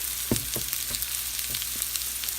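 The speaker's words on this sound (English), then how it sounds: "Okay, I'm cooking some zucchini, cut them up in slices." Sliced zucchini seasoned with lemon pepper sizzles steadily in a hot pan, a close, continuous hiss broken by a few soft knocks as the slices are stirred, with no talking.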